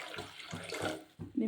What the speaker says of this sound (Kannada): ಒಂದು ಗ್ಲಾಸ್ ನೀರು ಹಾಕ್ತಾಯಿದ್ದೀನಿ.